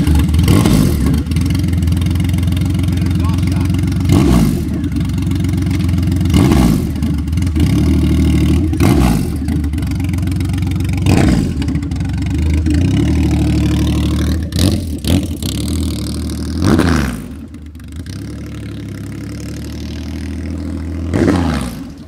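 Carpenter Racing-built 234 hp Triumph Rocket III motorcycle engine idling with a deep rumble and repeatedly blipped into loud revs, throttle bursts every couple of seconds, close by and heard alone.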